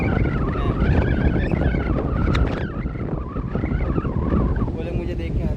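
A motorbike rides along a lane near Vadhvan beach, its engine a steady rumble mixed with heavy wind buffeting throughout.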